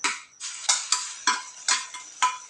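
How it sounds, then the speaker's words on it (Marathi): Wet grated coconut tossed into hot oil for a dry Maharashtrian mutton dish, giving a crisp sizzle broken by about seven sharp scraping stirs of a spatula against the pan, close and steady with no voices. "चांगलं भाजून घेऊया तेलामध्ये"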